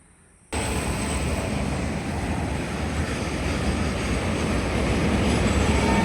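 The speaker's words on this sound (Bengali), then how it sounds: "আজ আর দূরে একটা ট্রেন আসছে, যেটা এক্সপ্রেস গাড়ি থ্রু পাস করবে" An express train passes straight through Bahadurpur station in Murshidabad, rushing in abruptly as a loud, steady rail roar that holds at full strength and swells slightly toward the end.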